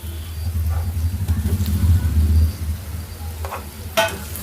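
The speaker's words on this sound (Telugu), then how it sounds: "ఇప్పుడైతే దుంపలు వేసేసుకుందామండి." Boiled taro (colocasia) goes into hot oil with fried onions, a steady low frying rumble and stirring scrape, ending in a sharp clatter of a utensil against the pan.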